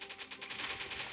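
Minigun turret firing in a video game, a fast rattling burst of rapid shots in an even rhythm, fairly quiet and steady, with no voices.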